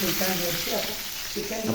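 Chicken pieces frying in a pan for green chilli chicken curry give a steady, close, hissing sizzle with light stirring throughout, and a faint voice is audible underneath.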